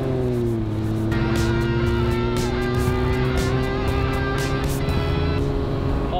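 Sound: Triumph TR6 British sports car driving

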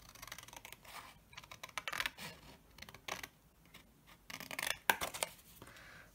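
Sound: cutting out with scissors

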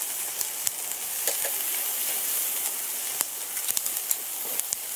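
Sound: beef steak sizzling on Weber Go Anywhere grill

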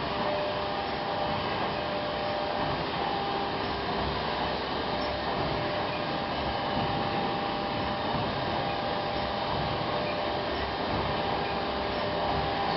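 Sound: Heidelberg ST-100 stitcher line running: stitching, trimming, stacking

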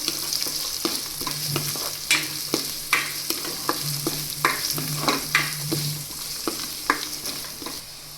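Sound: onion frying in a pan for upma

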